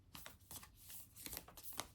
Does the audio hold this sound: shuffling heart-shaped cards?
yes